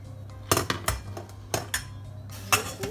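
Sausages go into a pot of boiling water and a lid is set on, giving several sharp metallic clanks and clinks spaced over a few seconds, close by with a low background hum and no talk.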